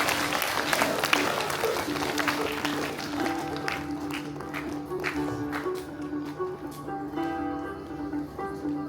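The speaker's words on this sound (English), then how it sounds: "Clap loudly for Bhavya J." An audience at a school Founders Day celebration claps loudly, a dense continuous burst of applause that holds steady throughout, with crowd noise and occasional voices mixed in.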